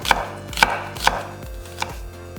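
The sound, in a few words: knife slicing half an onion into thick strips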